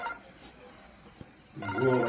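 A phone ringtone starts partway through after near silence, then rings on loud and close.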